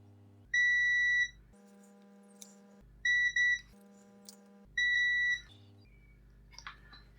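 A multimeter on continuity mode chirps while probing a faulty DMG Game Boy board: three separate steady high tones, each roughly half a second to a second long, with quiet clicks and faint handling noise in the gaps.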